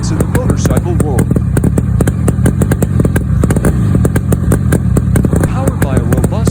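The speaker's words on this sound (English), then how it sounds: "Powered by a robust 100cc engine, this classic beauty delivers a smooth and exhilarating ride." A classic Motobi 100cc two-stroke motorcycle engine running loud and close, a continuous rapid popping buzz with a fast, even firing rhythm throughout.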